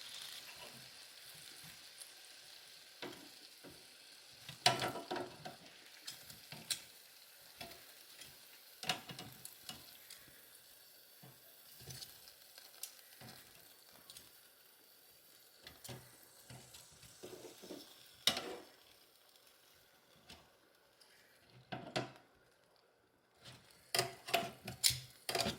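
Country style ribs being flipped in an air fryer basket, a quiet sizzle under scattered clicks and clinks of tongs against metal, with a few louder knocks near the start and end.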